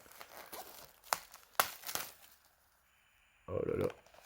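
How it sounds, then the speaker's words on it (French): Plastic shrink film being torn and peeled off a King Kong steelbook case, with a few sharp tearing rips followed by a louder burst of crinkling near the end, close and fairly quiet. "je vais le déballer devant vous."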